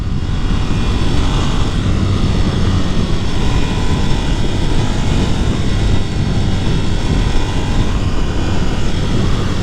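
A 2022 Ducati Nightshift motorcycle engine drones loud and steady while riding in fourth gear near 6,000 rpm, a dense continuous roar mixed with heavy wind rush.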